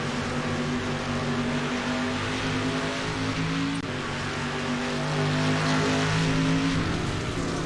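Dirt street stock race cars at Knoxville Raceway in the iRacing video game, several engines droning steadily at high revs in a continuous loud pack with no let-up.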